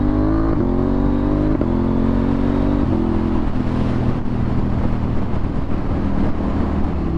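A KTM 790 motorcycle revs hard along a Derbyshire country road, its loud close engine note climbing through several gear changes before settling into a steady, rough drone mixed with wind rush.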